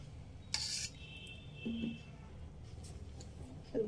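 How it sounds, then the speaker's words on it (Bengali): Hyderabadi chicken dum biryani rice being stirred gently once in a pot, giving a brief scrape of utensil on metal followed by soft, low rustling and clinks over a quiet kitchen background. "হালকা হাতে একবার নেড়ে দেব এভাবে"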